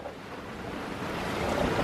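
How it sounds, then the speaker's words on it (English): Choppy, swelling waves slosh against a rocking sailing boat on a windy morning at sea, with steady broadband water wash and wind rush that builds slightly toward the end. "It's a windy morning and a swelly morning."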